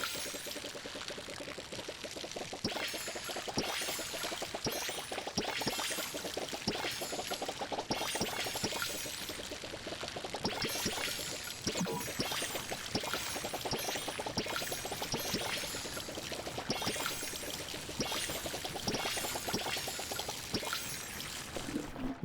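Steady pouring and trickling water from a watering can as plants are watered in the video game Palia, a continuous splashy stream with small repeated bursts lasting throughout, fairly even in loudness.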